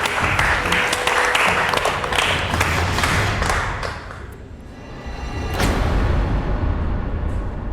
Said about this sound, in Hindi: फिर से तालियां।